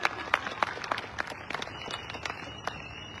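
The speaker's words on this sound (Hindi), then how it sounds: "एक जोरदार तालियां होनी चाहिए संस्था के लिए।" A crowd claps at a direct-selling business event in India, with scattered sharp individual claps standing out above a softer bed of applause, moderately distant and fairly quiet.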